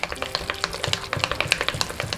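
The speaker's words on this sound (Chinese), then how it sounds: "现在直接把肉馅和调料搅拌均匀，在这里要多搅一会儿" Minced meat filling for dumplings being mixed with seasonings, giving a steady rhythmic run of wet slaps and squelches from vigorous stirring, close and continuous.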